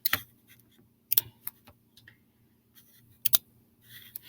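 A computer mouse clicks several times, with sharp, faint taps spaced irregularly over a quiet room and a low hum beneath.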